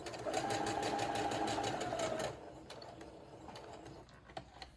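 Sewing machine stitching across the corner of a fabric face mask with a filter pocket: a close, rapid whirring run for about two seconds, then quieter ticks and clicks as the machine stops.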